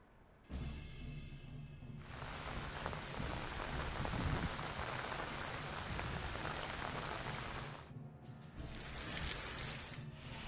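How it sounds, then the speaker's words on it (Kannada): Heavy monsoon rain pours down in hilly Karnataka, a dense continuous hiss that starts abruptly, holds steady for several seconds, then briefly drops away before resuming. "ಆಕಾಶಕ್ಕೆ ತೂತು ಬಿದ್ದಂತೆ ಮಳೆ ಸುರಿದಿದೆ"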